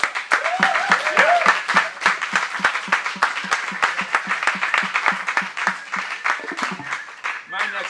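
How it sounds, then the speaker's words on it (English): A live talk-show studio audience applauds and claps steadily for several seconds, dense and fairly loud, while a voice carries on over the clapping. "get a round of applause for them"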